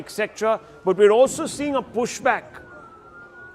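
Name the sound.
air raid sirens sounding across Tel Aviv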